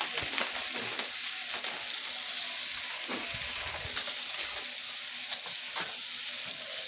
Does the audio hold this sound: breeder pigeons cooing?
no